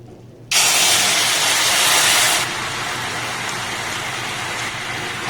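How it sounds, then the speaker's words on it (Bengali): Water splashed into hot raw mango caramel bursts into a loud, broad hiss that settles into a steady, quieter sizzle, with no talking over it. "এই পদে এখানে সামান্য একটু আমি জল অ্যাড করব"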